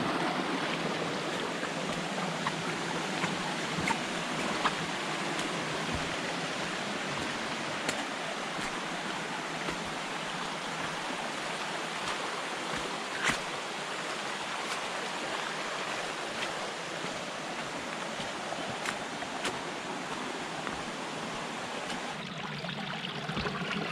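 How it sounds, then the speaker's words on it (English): A heavy flow of spring water gushing straight out of the ground along the Appalachian Trail between Erwin, Tennessee and the Roan Highlands makes a steady, full rushing wash that stays even and close throughout. "I thought this water source is pretty cool. It's literally coming out of the ground and it's like a ton of water."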